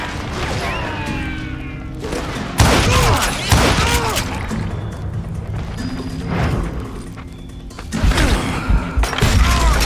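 Gunfire in the Western shooter game Call of Juarez: Gunslinger, repeated loud shots and bursts with mechanical clicks and impacts at irregular intervals, with game voices shouting between the volleys.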